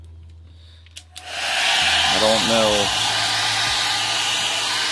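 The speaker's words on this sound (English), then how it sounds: "So we'll go ahead and take this hair dryer and heat up the screen and see what it does." Hair dryer aimed at an Acer monitor screen switches on after a couple of clicks and blows as a loud, steady close-up whoosh, its pitch wavering briefly as it spins up, with a short bit of speech early on.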